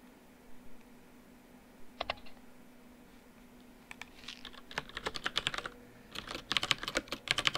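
Computer keyboard typing during online shogi play: sparse clicks at first, then dense bursts of rapid keystrokes, close and fairly quiet, with no talk.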